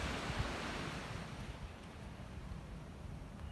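Ocean surf on a beach at Camden Haven in New South Wales makes a faint, continuous wash with a slight breezy hiss, steady throughout and with no voices.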